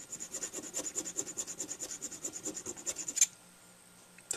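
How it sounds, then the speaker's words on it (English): A hand file rasps on a brass mouthpiece in quick, even back-and-forth strokes, about a dozen close scratchy passes, then stops abruptly and leaves near-silence. "So a little hand filing,"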